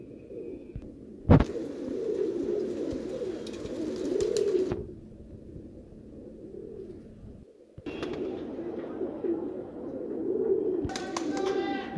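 Madrasi pigeons coo in a low, steady murmur close by, with a couple of sharp clicks or wing flaps and a short lull partway through.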